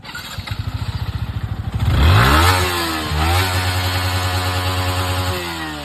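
A 2024 Yamaha MT-15 motorcycle with an aftermarket exhaust putters at a rapid, even idle, then a loud close rev swells and falls, followed by a second rev that settles into a higher steady drone.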